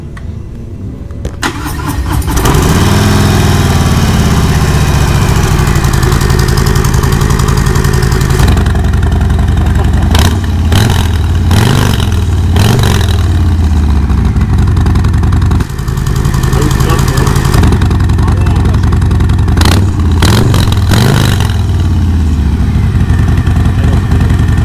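A BMW R 18 motorcycle fitted with a Kesstech exhaust fires up at Customz & Cruiserz 2021, then settles into a loud, close idle broken by repeated sharp throttle blips that rise and fall.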